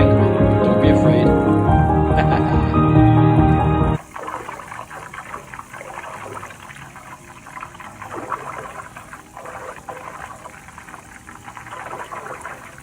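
Butter boiling down in a pot to make ghee, a steady bubbling and crackling sizzle as the water evaporates, fairly close and continuous after a short stretch of someone talking.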